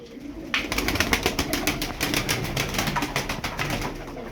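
Rapid wing clapping from a tumbler pigeon, a burst of sharp flapping claps in quick rhythm, close and fairly loud.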